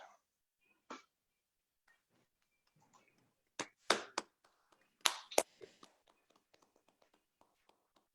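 Scattered clapping and finger snaps from an audience at a Kappa League induction ceremony, sparse sharp claps in small clusters with long quiet gaps, faint and uneven.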